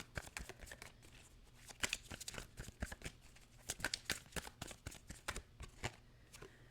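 Oracle cards shuffled by hand and laid onto a pile, a steady run of quick, crisp riffling flicks and light slaps, close up and quiet, with no talking.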